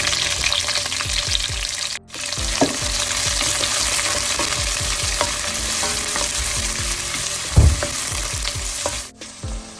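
Onions go into hot oil with garlic and curry leaves for capsicum rice, raising a loud, dense sizzle with a constant scraping stir close by and a brief louder clatter near the end.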